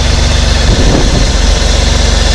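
A BMW E36 M3 track build engine idles close and loud, with a steady, even mechanical rumble and no talk.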